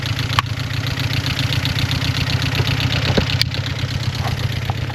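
An old car engine idles steadily after running a few minutes, a close, even rumble with a faint repeating knock and a couple of sharp clicks, no talking.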